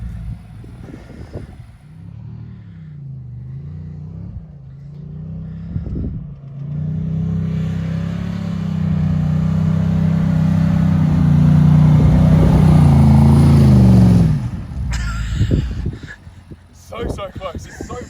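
Nissan Patrol Y62 4WD engine revving hard on a boggy track, a loud sustained roar rising and holding for several seconds before dropping off, with people talking before and after.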